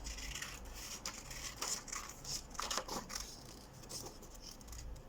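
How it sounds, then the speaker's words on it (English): Scissors cutting out a paper feather shape along a drawn line, a series of quiet, close snips and paper rustles in an uneven rhythm. "if I get my scissors and cut that out, just follow the line around"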